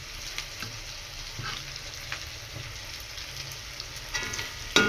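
Food fries steadily in a pan with a close, continuous sizzle and occasional scraping stirs, ending in a louder clatter.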